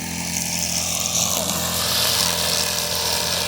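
A grass cutter engine runs steadily at a farm among banana plants, a continuous loud droning buzz with no pauses throughout.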